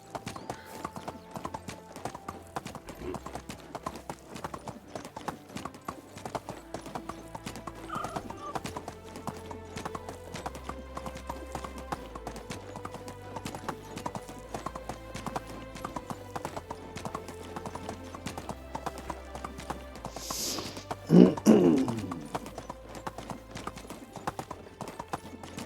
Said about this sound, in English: I'll just park my horse over here as per usual.